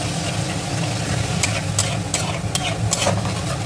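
Chopped onion, garlic and ginger sizzle steadily in hot oil in a pan, with a few sharp scraping clicks as a spoon stirs the mix, up close and without talk.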